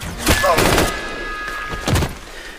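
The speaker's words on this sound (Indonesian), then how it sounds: "Ketika Neytiri akan ditembak, di waktu yang tepat Neteya menyelamatkannya." Gunfire in a battle scene from the film Avatar: The Way of Water: several sharp, loud bursts and thuds cluster early, with another volley near the end, over a thin sustained tone and soundtrack ambience.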